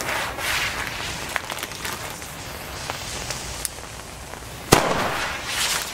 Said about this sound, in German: Die 2015er Version der kubischen Kanonenschläge von Aldi Süd mit dem Namen Taipei.